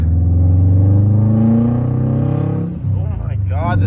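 A lightly modified 2025 Hyundai Elantra N accelerates hard with its turbo spooling, making a steady, loud engine drone from inside the car that dips briefly before the revs pick up again.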